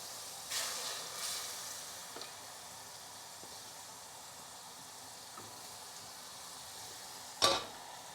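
Base gravy added to a hot pan for a restaurant-style biryani curry, with soft hissing bursts early, then a quiet steady sizzle and a sharp clatter near the end.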